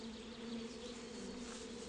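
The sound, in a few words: rare Burzyan bees buzzing near hives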